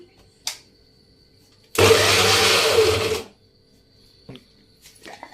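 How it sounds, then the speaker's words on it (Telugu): An electric mixer grinder whirs through ginger garlic paste in a home kitchen, one loud steady burst of about a second and a half, with quiet clinks and small handling noises before and after. "జింజర్ గార్లిక్ పేస్ట్ అయితే మిక్సీ పట్టుకోవాలి"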